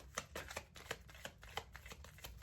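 A large deck of cards being split and riffle-shuffled in quick, crisp bursts of flicking, close and fairly quiet, with no talking.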